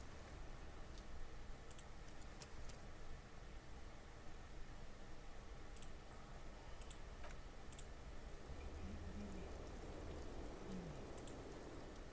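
Steady rain ambience from the Disco Elysium video game, a constant wash of falling rain with faint scattered drip-like ticks, at a moderate, even level with no talk.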